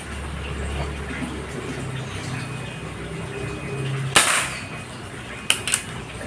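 A crisp snap from a Marauder PCP air rifle with an Alfa barrel, followed a moment later by a couple of quicker, smaller clicks, all over a low, steady background hum.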